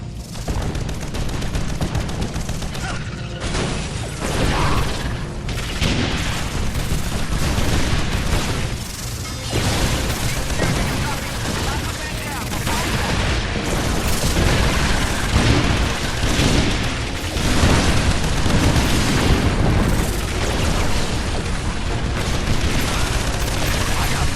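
An electric weapon fires continuously in Earth Defense Force: Insect Armageddon, a loud, crackling, broadband barrage of rapid bursts that runs unbroken for over twenty seconds amid battle noise, with no pauses.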